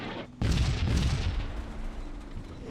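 A mortar shell bursts in the WWII strategy game Combat Mission Final Blitzkrieg, a sudden loud boom after a brief lull that rolls into a long rumbling decay with faint distant gunfire behind it.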